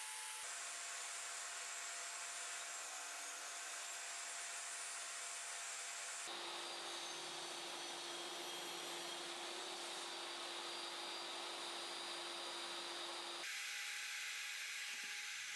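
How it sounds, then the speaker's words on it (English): Table saw fitted with a sled ripping soft poplar plywood lengthwise into drawer sides, a steady high whining roar that holds for about six seconds, shifts pitch as the blade loads into the cut, then eases near the end. "I'll use the table saw sled to cut all the pieces lengthwise"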